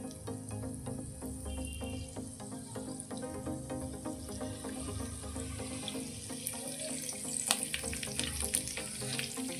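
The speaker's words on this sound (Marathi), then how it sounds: "आता त्याच्यामध्ये मी हा लसूण टाकणार आहे ठेचलेला लसूण आणि कढीपत्ता घेतलेला आहे तोडून तो टाकायचा आहे" Crushed garlic and curry leaves sizzling in hot oil for a Bangda fish fry, a continuous close frying hiss with crackles and clinks of stirring.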